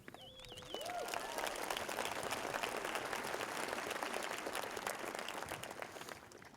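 A high school graduation crowd breaks into sustained applause and some cheering for the school's athletic teams, a broad, even wash of many hands in a large space, faint and distant, after a brief voice at the start.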